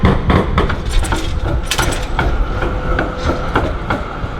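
Tram passing along Swanston Street in Melbourne, a loud nearby rattle of rapid metallic clacks and knocks over a constant rumble of wheels and street noise.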